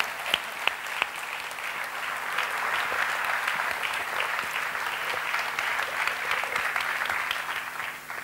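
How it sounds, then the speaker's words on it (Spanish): Applause for Jonathan Racionero at a Valladolid campaign programme presentation, opening with a few sharp distinct claps that swell into steady, full clapping from a seated audience, sustained and moderately near throughout. "Jonathan Racionero, un aplauso para él"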